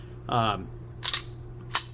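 The slide of a Springfield XD Elite 10mm pistol is racked with a quick metallic swipe, followed by two sharp clicks about half a second apart, close and crisp over quiet room tone.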